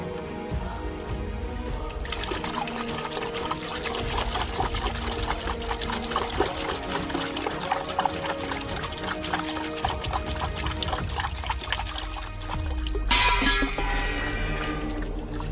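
Water pours and trickles continuously for about fifteen seconds, close and clear, getting louder and splashier near the end, with no talking.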